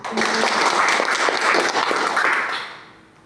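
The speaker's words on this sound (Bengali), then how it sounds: "সবাই সবার উদ্দেশ্যে একটা তালি দিন" An audience at a DXN network marketing gathering breaks into applause, dense overlapping clapping from a crowd that holds steady for a few seconds before fading away.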